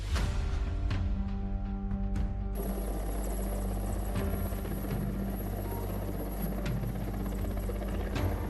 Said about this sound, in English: Dramatic images show an Indian Air Force helicopter rescuing people trapped in flash floods.